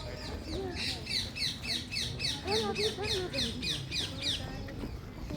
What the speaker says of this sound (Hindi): आनंद ले पाई इन पक्षियों की चहचहाहट का जो दिल्ली के शोरगुल में कहीं खो गई है।